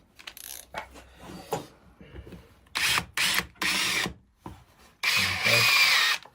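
A power drill whirs in several bursts, boring through wood with a bit too short for the job, pauses between runs, close and fairly loud, ending in a longer sustained spin.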